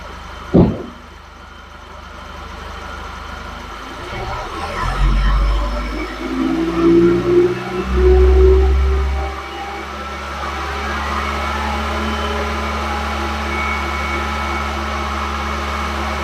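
A Volkswagen engine starts with a sharp crank and then settles into a steady low idle during an oil pressure test, the hum rising briefly before evening out, nearby and continuous.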